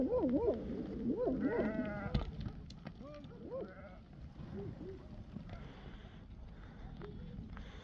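Several sheep bleat in a wavering chorus close by in a mixed flock with rams, calls overlapping and tapering off against a low rumble of outdoor background noise.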